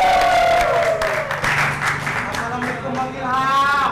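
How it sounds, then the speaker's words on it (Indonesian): A crowd claps and cheers at an iftar gathering in Medan as a trainee host is welcomed on stage, steady applause over about four seconds, mixed with voices and an amplified speaking voice. "tepuk tangan yang meriah untuk Saril"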